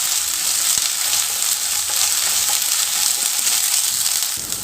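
Onions sautéing with ginger garlic paste in a pan, a loud, steady, hissing sizzle with a few faint stirring clicks, continuous and close throughout.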